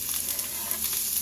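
Onions just added to a little oil in a pan, giving a steady, close hiss of frying with a bright crackle and no talking over it.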